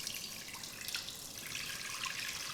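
Water from soaked, sprouted bajra flour batter being gently poured off the top of the settled mixture, a faint, steady trickle and splash running continuously with no talking.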